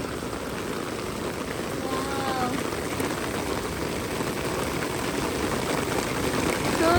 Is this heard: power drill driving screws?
no